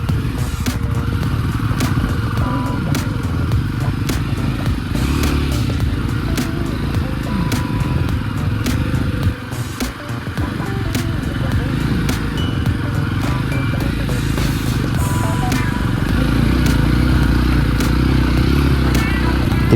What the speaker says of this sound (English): It was my first off-road ride on my Java 42.